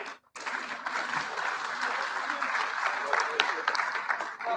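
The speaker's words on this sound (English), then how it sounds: "a good round of applause to our group" Audience applause for a group of speakers at a Social Business Day conference, a steady dense clapping that starts after a brief pause and continues loudly for several seconds.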